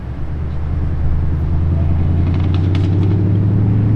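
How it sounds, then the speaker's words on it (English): A Toyota Supra engine rumbles steadily and grows louder as it passes nearby, a deep droning roar with a brief rasping burst near the end. "I think a Supra just went by."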